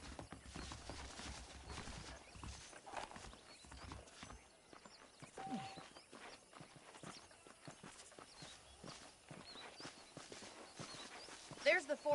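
Hooves of a saddled video game horse clip-clop steadily at a walking pace under ongoing talk, moving close by at a relaxed rhythm.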